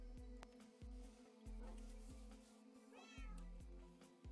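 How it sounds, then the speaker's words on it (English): A cat meows in the Minecraft game on the RetroCraft server, one clear rising-and-falling call over a busy backdrop of thumping game sounds and clicks. "Oh, already greeted to cat sound."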